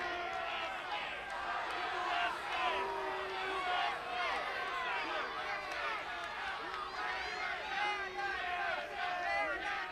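A wrestling crowd in Buffalo, New York, jeers and blows raspberries at Petey Williams, a continuous mass of loud, sputtering boos and shouts filling the arena with no pause.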